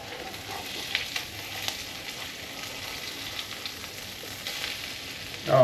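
Pierogies coated with roasted garlic fry in a pan over lowered heat, giving a steady, close crackling sizzle with a few soft stirring scrapes and light clicks.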